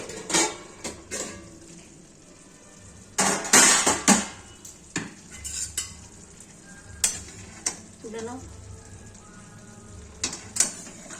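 A lid is set over a simmering pot of egg, soybean and cabbage curry: a few sharp metallic clinks and clatters over a steady low sizzle, close by, with no talking.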